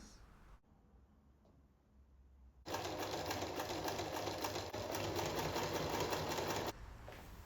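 A sewing machine stitches pieces of a handmade British Union Flag together, starting after a quiet pause and running in one steady, close, whirring burst for about four seconds before stopping.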